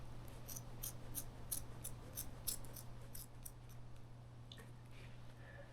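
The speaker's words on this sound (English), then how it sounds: "we'll figure out if a knife or scissors is better to cut that with." Scissors taking small, repeated snips through carpet being fitted to a camper roof, a series of crisp, close cutting clicks over a low steady hum, with no voices.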